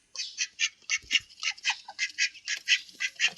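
Ducks sitting inside a house quack in rapid, overlapping bursts, a steady nasal chatter held close by and fairly quiet.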